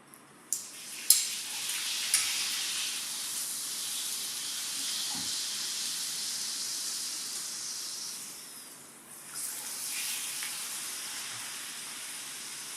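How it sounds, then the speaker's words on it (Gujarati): Hot oil hisses and sizzles continuously as urad dal papads fry, with a few faint clinks early on and a brief dip before the sizzle resumes. "તો આ રીતે મેં ત્રણ પાપડ તળીને તૈયાર કરી દીધા છે"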